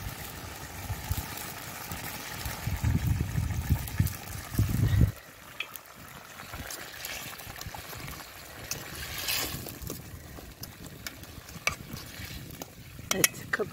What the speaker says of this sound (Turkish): Şimdi çırptığımız yumurtalarımı da şöyle gezdireyim.